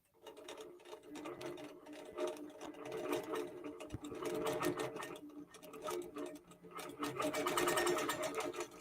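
A QBOT V3 Pro quilting robot drives the machine's needle across a quilt, producing a fast, rhythmic mechanical ticking and clattering of stitches that swells and fades in waves, fairly faint and continuous.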